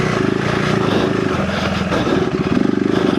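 A KTM 390 Enduro R motorcycle under way, its single-cylinder engine droning steadily and close with rising and falling revs and a buzzy pulse.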